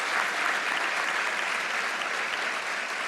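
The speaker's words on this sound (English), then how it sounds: "Oh no, it's just for an applause break." A sustained burst of crowd applause during a political speech, many hands clapping in a thick, even roar that holds steady and eases slightly toward the end.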